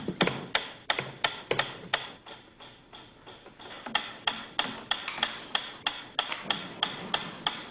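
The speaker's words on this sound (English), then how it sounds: "A ticking metronome." A metronome ticks steadily in a close, dry series of sharp clicks at an even tempo, with a brief irregular patch of faster ticks partway through.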